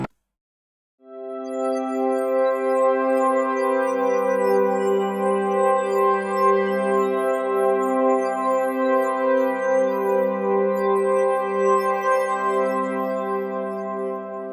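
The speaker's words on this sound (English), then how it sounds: "The preset I used is the pad preset called Sparkly." A sustained synthesizer pad from the "Sparkly" pad preset, rich with harmonics, holding steady chords that shift once or twice; clean and dry, with no effects.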